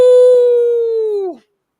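Single drawn-out wolf howl sound effect, a clear, loud sustained tone that holds steady and then bends downward before cutting off abruptly, heard alone.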